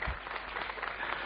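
A brief, muffled burst of steady applause from a seminar audience, fairly quiet and dull in tone.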